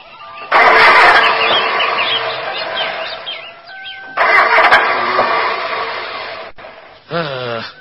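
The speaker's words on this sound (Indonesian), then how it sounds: "Dasar mobil brengsek. Mau dipakai nyari duit, mendadak mesinnya jadi ngadat begini." A car engine cranks repeatedly in long grinding bursts that stop and restart, failing to catch, loud and close, with birds chirping faintly in the background and a short final burst.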